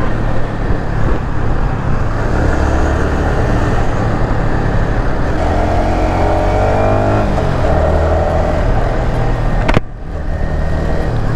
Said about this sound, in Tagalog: Grabe traffic sa kabila.